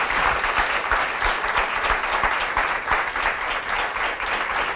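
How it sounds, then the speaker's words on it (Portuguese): Sustained applause from a TV talk show studio audience, dense clapping that stays at a steady level throughout. "isso merece uma grande salva de palmas"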